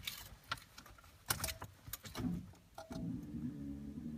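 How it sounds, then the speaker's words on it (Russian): Metallic clicks and scrapes of a key going into the ignition lock of a Lada Niva 4x4 (VAZ 21213), several sharp taps, followed by a low steady hum from under the hood. "Я вставляю ключ в замок."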